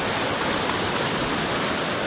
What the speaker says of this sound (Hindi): ये देखो बारिश, कितना तेज बारिश है।